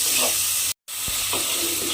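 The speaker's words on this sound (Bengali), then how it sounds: "টমেটোর মধ্যে নুনটা দিয়ে একটু ভাজা ভাজা মতো করে নিয়েছি" Tomatoes frying with salt in a pan for a banana-flower dal (mochar dal), giving a steady close sizzle with a brief break and soft stirring scrapes.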